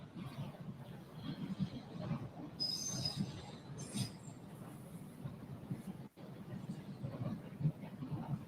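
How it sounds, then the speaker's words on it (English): A train rolls across a bridge on its tracks, a rumbling rattle of wheels with brief high squeals, heard from a short distance for several seconds. "You think that noise of the train tracks going across right there is loud enough"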